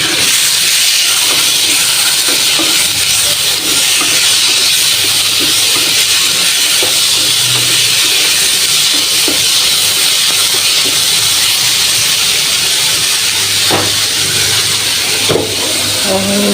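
Vegetables sizzling in hot oil in a pan with turmeric, chili, salt and green chili, a loud, steady broadband hiss that runs unbroken throughout, with faint scattered clinks.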